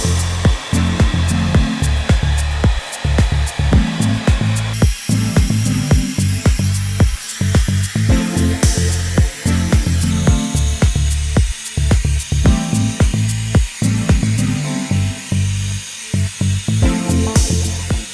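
A hair dryer blowing on hair runs loud and close for the whole stretch. Its steady roar keeps breaking into rapid pulses as the airflow is moved and shifted across the head.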